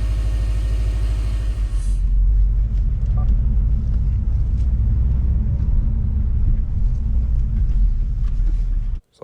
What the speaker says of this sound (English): Now the car is running. Let's go ahead and take it for a quick test drive.